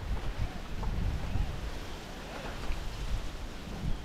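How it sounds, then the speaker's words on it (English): Strong wind from Hurricane Ian blows outdoors as a continuous rough roar with gusty low buffeting against the microphone, fairly faint overall. "As you guys can see, super windy out here."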